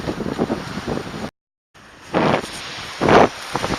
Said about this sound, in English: It's a lot more windier up here, or today in general.